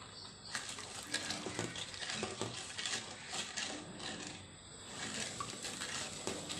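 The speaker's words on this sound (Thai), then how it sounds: "เราก็จะเคี่ยวกะทิไป แต่เราจะไม่ให้กะทิแตกมันนะคะทุกคน" Sweetened, lightly salted coconut milk simmers in a pot for a Thai taro bua loi dessert, giving a busy crackling bubble with repeated scraping strokes of a spoon stirring, close and fairly quiet.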